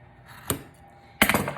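Two sharp scissor snips close up, slitting satin fabric on a table, one short and one longer with a quick rattling burst, against a quiet room.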